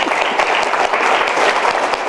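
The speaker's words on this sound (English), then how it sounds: "You can clap, go ahead." An audience at a talk on the green economy claps loudly, a close, continuous burst of many hands with no let-up.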